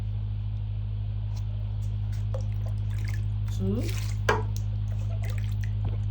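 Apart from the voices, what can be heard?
pouring cups of water into a pot for zobo drink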